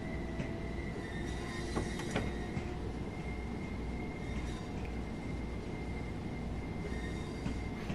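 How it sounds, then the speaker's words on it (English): A Class 377/4 electric train in the Train Sim World 2 simulator pulls away as power is applied, giving a steady rumbling rail drone with a faint motor whine and occasional light squeals and clanks. "Going to release the brakes and put the train into notch 1 and notch 2 to get moving."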